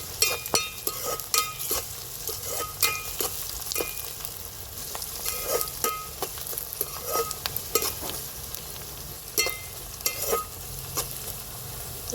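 Onion pieces salted in a hot pan sizzle steadily up close, with frequent sharp utensil scrapes and clinks from stirring across the whole stretch.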